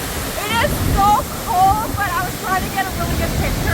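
Laughing Falls waterfall roars close by as a steady broadband rush with wind buffeting the microphone, while a person talks over it throughout.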